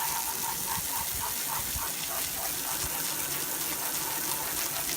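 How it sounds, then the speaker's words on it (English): A garden hose sprays a steady rush of water over a boat hull to rinse off cleaner, a continuous gushing hiss that runs unbroken from start to finish with no talking. "I'm gonna try the garden hose here. Rinse off the product."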